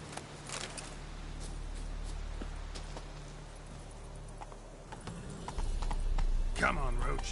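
Horse hooves clip-clop steadily in a video game, a close, regular trotting rhythm with a snort or whinny near the end, while someone talks over it.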